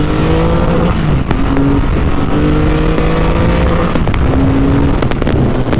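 A Triumph Rocket 3 motorcycle, the largest production bike, roars steadily while being ridden into the hills, a loud, close engine drone with shifting pitch and brief gear changes, no voices.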